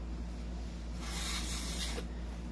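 A burst of aerosol spray paint hisses onto the nozzle of a CZ Shadow 2 airsoft pistol, coating it black; a steady, close hiss runs for about a second over a low background hum.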